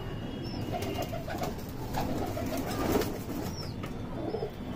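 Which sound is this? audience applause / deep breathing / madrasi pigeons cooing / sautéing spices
madrasi pigeons cooing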